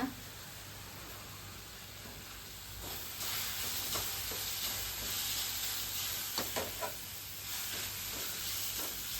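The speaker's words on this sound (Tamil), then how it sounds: "வெங்காய சட்னிக்கு எல்லாம் வதக்கியாச்சுங்க" Onions sautéing in a pan with coconut pieces and tamarind for onion chutney: a low hiss that swells louder partway through, with close, sharp scraping and stirring clicks over the sizzle.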